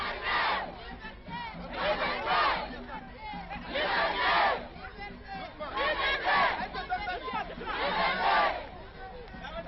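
A large crowd of demonstrators cheers and shouts in repeated swelling waves, loud roars rising and falling every couple of seconds amid a continuous babble of voices.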